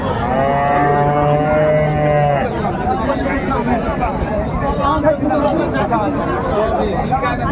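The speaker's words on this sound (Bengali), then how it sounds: "এখানে একটা দেখছিলাম বেশ সুন্দর মানের গাভি বাছুর" A cow with her calf lets out a long, loud moo nearby at a cattle market, followed by people chattering and talking in the background.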